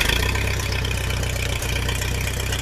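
A small engine runs at a steady idle after being started with the choke pulled, a continuous close, even chugging with a low rhythmic pulse and no talk.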